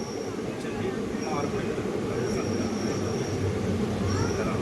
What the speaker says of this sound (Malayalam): ട്രെയിനാണ് വളഞ്ഞ് പോണതൊക്കെ.